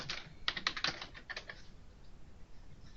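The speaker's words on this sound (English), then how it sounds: "then you can type in Texas Tech" Fingers typing on a computer keyboard: a quick run of soft, close key taps over the first second and a half, then sparse faint clicks in quiet room noise, with no talk.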